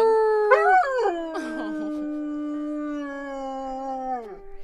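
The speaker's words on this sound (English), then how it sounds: "Is that her dog?" A dog howls in a long, clear, wavering tone that rises, drops, then holds steady before trailing off, loud and close.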